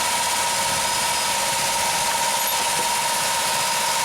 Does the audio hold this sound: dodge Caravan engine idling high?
yes